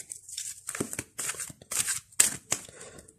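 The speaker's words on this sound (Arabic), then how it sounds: "اوكي، هنخلط الكروت" Sambolon tarot cards are shuffled by hand in a brief series of papery riffles and swishes, each burst followed by a short pause, close and fairly loud.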